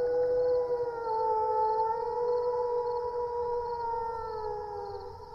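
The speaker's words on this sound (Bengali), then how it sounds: "শুধু দূরে কোথাও একটা আধটা শেয়ালের হুক্কা হওয়ার ডাক শোনা যাচ্ছে।" Jackals howl far off in a still night. Long, sustained wailing tones rise and fall, blending into a drawn-out chorus that slowly fades. No voices are heard.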